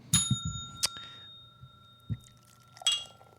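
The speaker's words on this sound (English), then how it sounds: "how about we ring that bell?" A small bell rings out with a bright, sustained metallic tone, struck a few times with short clinks and knocks in between, then rung again.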